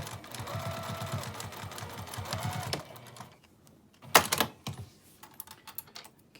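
A sewing machine runs a fast, even stitch along a bag's lining closure seam with gray 50-weight thread, two close bursts of whirring, followed by quieter fabric handling and a few sharp clicks.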